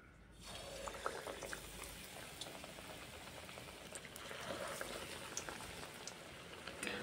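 Beguni eggplant fritters fry in hot oil, a faint, continuous crackling sizzle with scattered small pops throughout.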